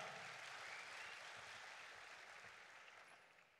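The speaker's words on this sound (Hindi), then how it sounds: "अबरारुल हक के लिए भरपूर तालियां।" An audience applauds Abrar-ul-Haq at a World Environment Day 2021 event hosted by Pakistan. The clapping is a dense, steady wash that slowly fades.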